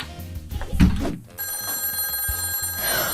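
A telephone rings in bursts with a steady electronic trill, loud and close, following a couple of dull thumps and muffled handling noise.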